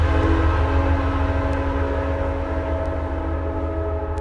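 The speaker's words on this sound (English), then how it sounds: "I think I'll let the train go by first." A train passes nearby in a steady, loud rumble with strong low-end roar and sustained tonal hum, no voices over it.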